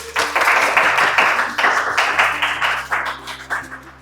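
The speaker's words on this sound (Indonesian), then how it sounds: "boleh tepuk tangannya teman-teman" Audience of teens at a talk-show camp event clapping for a guest speaker, a short, loud burst of applause that fades out over a few seconds.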